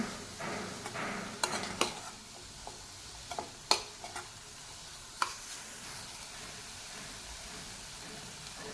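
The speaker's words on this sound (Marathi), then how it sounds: "आता हे मी व्यवस्थित हलवून घेतली कोथिंबीर घालते" Spiced onion filling for paratha stirred in a pan, a quiet sizzle under scattered clicks and scrapes of the spoon against the metal, close by and with no talking.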